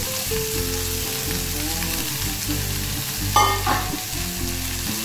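Green peas fry in a pan with a steady loud sizzle, a brief louder burst of crackling partway through as they are stirred, all under a low continuous hum.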